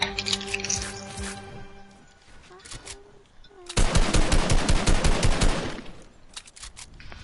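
Loud rapid automatic gunfire in Fortnite, a dense burst of about two seconds following quieter game sounds and tones, with brief talking nearby.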